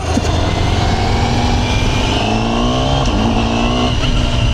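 A Honda CBR1000RR-R Fireblade sport motorcycle engine drones loudly from close by, climbing in pitch with a brief dip around an upshift before pulling on again.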